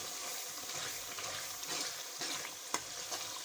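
Masala with cumin powder sizzles and fries steadily in a pan while being stirred for an aloo gobhi dish, with a continuous close hiss and occasional scraping of the spoon.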